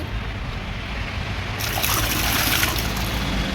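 Water pours steadily during a bath, a dense, loud splashing rush that grows brighter and heavier partway through and then runs on without a break.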